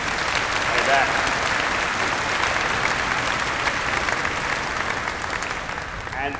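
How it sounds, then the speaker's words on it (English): Sustained applause from a large convocation audience at a university graduation ceremony, dense steady clapping filling the hall that tapers slightly toward the end. "Let's give him a nice round of applause."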